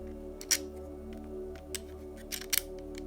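A small screw turned by hand into a Tamiya Hornet RC car motor, with a few brief crisp clicks and scrapes over a steady low hum, including one near the start and a tight pair near the end.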